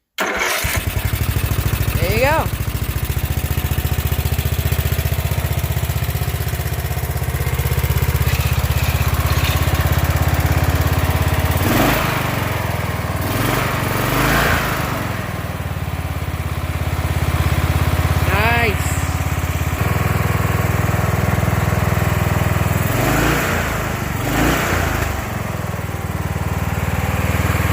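A Craftsman riding lawn mower engine cranks, catches and settles into a loud, steady running drone close by, with a few brief revs and someone speaking now and then over it.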